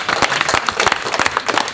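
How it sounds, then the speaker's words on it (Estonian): Audience applause for Mika Keränen at a club talk, a dense, loud burst of many hands clapping at close range, steady throughout with no voices. "teeme siis Mikalele suure aplausi"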